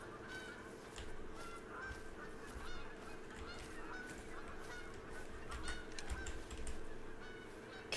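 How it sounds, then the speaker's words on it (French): Birds give repeated honking mating calls in TheHunter: Call of the Wild, goose-like honks scattered through the clip alongside steady keyboard typing and clicking. "Je sais pas si c'est ces oiseaux là-haut qui font du bruit."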